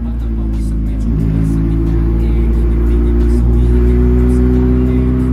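A Honda Civic EF with its check engine light on is driven, its engine a loud, steady low hum and rumble from inside the car that rises slightly in pitch partway through.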